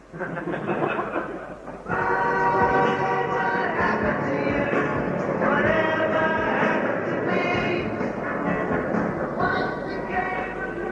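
A train heard in a radio comedy gives a loud, steady rolling rumble with rhythmic thumps that builds after a brief quieter opening and continues throughout.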